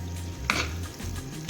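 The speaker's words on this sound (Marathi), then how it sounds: "मग मी आता हलवून घ्यायचं आपल्याला भात" Cooked vatana bhat, Maharashtrian pea rice, being stirred in a pressure cooker with a spoon or ladle, giving soft scraping and clinking strokes with one sharper knock, steady and close.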